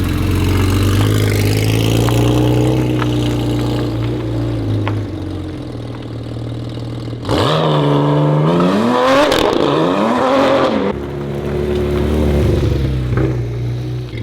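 A Porsche 992 GT3 RS with a titanium exhaust revs loudly and steadily, its pitch climbing and falling through several sharp blips in the middle before settling back to a sustained drone.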